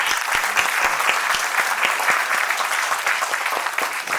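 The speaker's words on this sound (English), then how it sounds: "Can we please have a round of applause for all our panelists?" Audience at a panel discussion giving the panelists a dense, continuous round of applause with distinct individual claps, loud and sustained with no talk over it.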